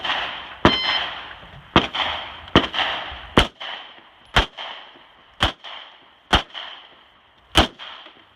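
Ten sharp gunshots crack in steady succession at an outdoor shooting range, each followed by a short echoing tail, during a timed single-handed round firing on five targets.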